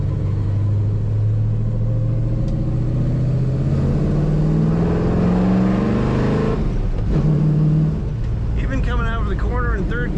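A 1966 Chevrolet Impala SS 2-door hardtop accelerates in third gear, its engine droning low and rising steadily in pitch, then shifting or easing off near the end; continuous and close, with a voice speaking over it.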